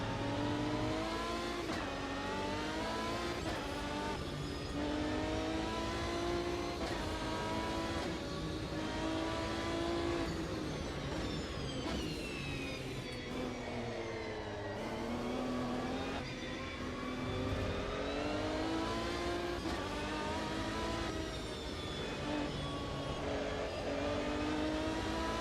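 A race car engine in the Automobilista 2 racing game revs loudly and continuously, its pitch climbing and falling through repeated gear changes, with no talk over it.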